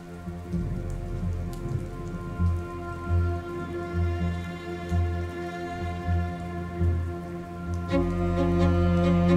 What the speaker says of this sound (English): Rain and a spring thunderstorm.